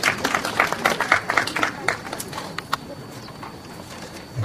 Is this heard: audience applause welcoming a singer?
yes